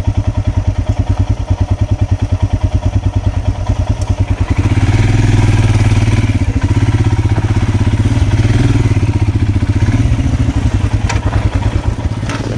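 A motorcycle ridden along forest trails near Kyatanamakki, its engine running steadily up close with a rumbling drone that grows louder and rougher after a few seconds, mixed with clattering and thuds from the bumpy ride.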